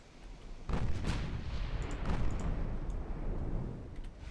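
Naval guns firing in the warship game Ultimate Admiral Dreadnoughts at eight-inch range, deep booming salvos that roll into a long rumbling wash with a few sharper distant cracks, fairly loud and free of talk.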